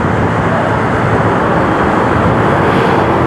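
Dense, steady roar of heavy road traffic in a congested area, continuous and fairly loud with engines and tyre noise blending into a constant wash, no voices.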